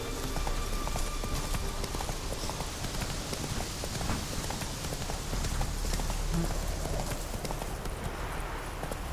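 Roach, the horse from the video game The Witcher 3: Wild Hunt, gallops with a steady, rapid clip-clop of hooves under a wash of rain-like ambience, continuous and moderately close throughout.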